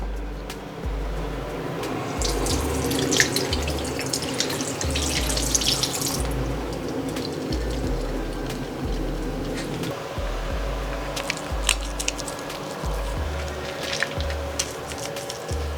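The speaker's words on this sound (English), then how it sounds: "It's very easy to lather and the lather is pretty creamy" Water runs steadily from a tap while a face is lathered and washed with a NACIFIC Fresh EM bar soap at a sink, with soft wet rubbing and splashing close by for the whole stretch and no talking.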